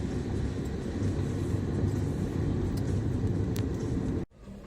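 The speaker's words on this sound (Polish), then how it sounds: "Auto mi się ślizga, bo jest masa szlamu," A car creeps slowly through thick mud in stop-and-go traffic on a city street in Kariakoo, giving a steady loud engine rumble and road noise that cuts off abruptly near the end.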